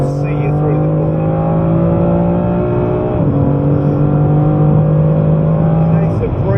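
A BMW M3 on a hot lap at Goodwood, its engine droning loud and close from inside the car as it accelerates, a brief dip in pitch at a gear change before the revs climb again; someone talks over it.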